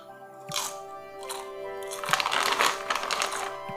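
A packaged crunchy snack being eaten, with sharp crunches at first and then a dense run of close crunching and chewing, fairly loud and with no talking.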